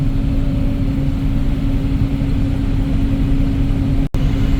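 A combine harvester mowing oats, its engine running at a steady low drone with a constant hum. The sound is loud and close and stays even throughout, with a brief dropout near the end.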